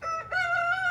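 A rooster on a homestead gives a single sustained crow, a steady harmonic call held for nearly a second, loud and close with no voices.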